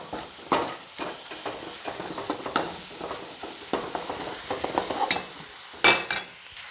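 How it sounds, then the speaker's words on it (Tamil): Chickpea masala stirred in a pan over a medium flame, with a soft sizzle under repeated scraping strokes of a spoon. A few sharper clacks stand out near the end, and no one talks. "அது வரைக்கும் மீடியம் ஃப்ளேமில் வச்சு இப்படி கிண்டிக்கிட்டு கரிஞ்சு போகக்கூடாது"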